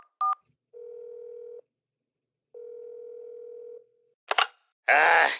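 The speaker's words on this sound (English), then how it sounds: "Slowly, the phone began dialing a number." Telephone dialing tones: a short two-tone DTMF beep, then two long steady tones separated by a pause, followed by a couple of brief clicks and a burst of noisy rustle at the end, close and clear.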